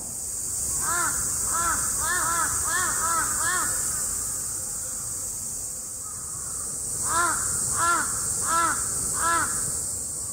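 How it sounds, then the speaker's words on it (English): Large-billed crows caw in a Japanese city: a run of loud, harsh caws, a pause, then a second set of four evenly spaced calls over a steady high-pitched background hum. "My footage consists mainly of the large-billed crows."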